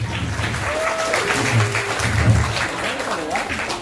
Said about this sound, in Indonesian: Nah, beri aplaus buat Duta Kampus.